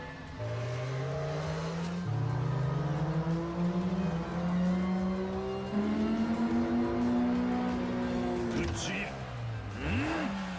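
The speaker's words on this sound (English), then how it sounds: "Explosive acceleration." Car in the Yakuza 5 racing game accelerating hard, loud engine revving up through gear shifts with rising pitch, tire squeal near the end, under game chatter.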